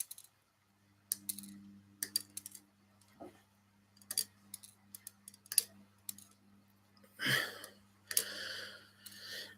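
Sharp, scattered clicks and snaps from cutting plastic model kit tank track links off the sprue, coming in irregular bursts close up against a low steady hum, with no talking.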